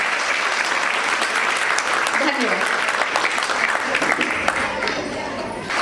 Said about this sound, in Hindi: तो हम जोरदार तालियों से अपने विद्यार्थियों का स्वागत करेंगे।